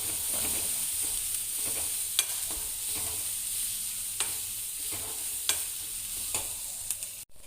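Cauliflower fry with meat masala cooking in a pan, a continuous bright sizzle with occasional sharp scrapes and taps of a stirring spoon, close and steady with no voices.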